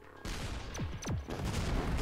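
Fireworks weapon shots fired in the artillery game Shellshock Live: a burst of loud crackling blasts with several whistling, falling shrieks over a dense, continuous rumble of explosions.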